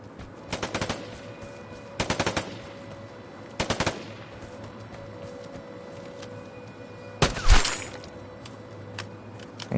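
Four bursts of rapid automatic gunfire in a first-person shooter video game: three short, evenly spaced volleys early on, then a louder, closer burst near the end, with a steady low game-ambience hum between them and no talking.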